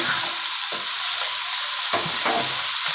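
Food frying in a pan is stirred, giving a dense, close sizzle with several rhythmic scraping strokes every second or so and no speech over it.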